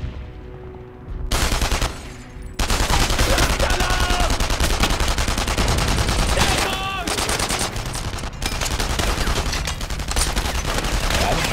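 Sustained automatic gunfire fills a firefight in the video game Enemy Front, with dense rapid bursts and overlapping shots running almost continuously at high volume after a brief quieter opening.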